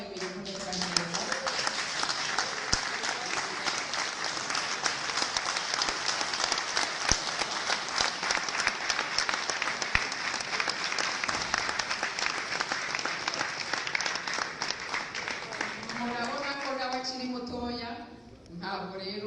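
An audience applauds at an event honoring Victoire Ingabire, dense clapping filling nearly the whole stretch at steady loudness before thinning at the end, with a voice speaking briefly at the start and end.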